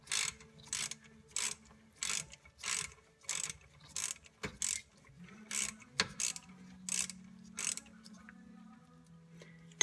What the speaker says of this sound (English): I used a 8mm socket to remove that.